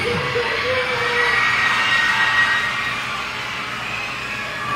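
Recorded crowd noise as a man walks into an American Idol event: a steady roar of cheering and applause from a large audience, with a brief whistle rising above it, continuous and fairly loud throughout.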